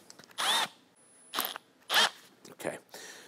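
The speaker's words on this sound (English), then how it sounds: "Gen 2 hammer drill." An M12 Gen 2 hammer drill fitted with an accessory whirs in four short, loud bursts, each separated by a brief pause, close up.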